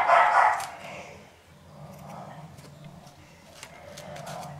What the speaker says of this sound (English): So, I apologize for all of the barking that you hear.